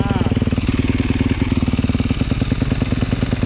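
Dirt bike engine running steadily at a close, loud idle with a fast, even thumping pulse and no pauses throughout.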